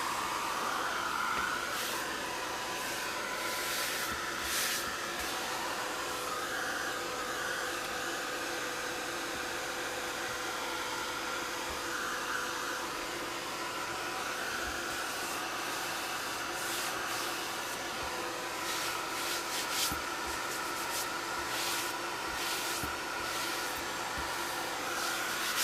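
Heat tool blowing hot air onto the back of a muslin art journal page, a continuous steady whooshing hum with faint rubbing and handling sounds over it, no talk.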